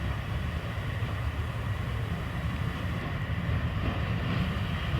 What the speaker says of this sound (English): Here we see a diesel multiple unit arriving at Duffield Station.